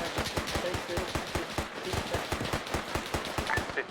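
Maxson turret machine guns fire in rapid, evenly spaced bursts of sharp rattling shots in a World War II combat game, fairly close and steady across the clip.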